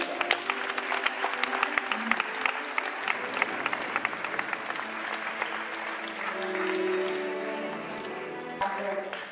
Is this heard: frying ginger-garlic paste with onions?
no